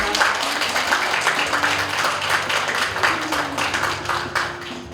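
A seated audience at a poetry recitation contest applauds steadily, dense clapping holding near and even for the whole stretch, with a faint low tone beneath and no talking.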